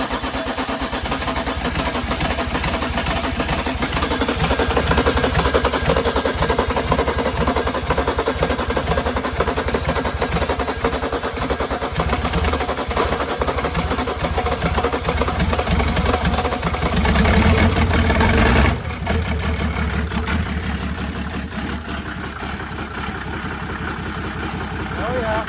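A car engine runs throughout, a steady loud idle with rough mechanical chatter that stops near the end and picks up again, among a diesel lineup of OM606, OM603, OM617 and an LS1.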